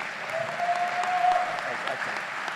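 A college commencement audience applauds a commencement speaker, steady mid-level clapping from a large crowd across the whole span without a break.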